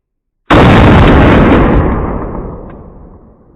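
A single loud 10mm pistol shot bursts out abruptly after silence, then a long echoing decay fades over several seconds, close and isolated.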